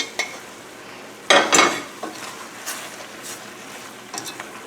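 Garlic shrimp with stock being stirred in a pan: a loud scrape and clatter of a utensil against the pan, then lighter scattered taps and a faint sizzle. No one speaks.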